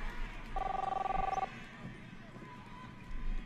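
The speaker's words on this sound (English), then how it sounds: "That's the phone." A telephone rings with a short burst of rapid electronic trills in the video game Captain Spirit, heard once and moderately loud, set against a steady room hum.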